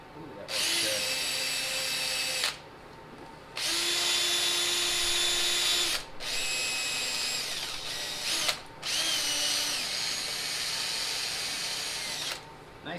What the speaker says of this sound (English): Nice soft brass brush just cleans that up.